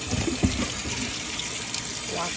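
Tap water splashes into a cooking pot being rinsed at a kitchen sink, a faint steady gush with a few clinks of the pot near the start.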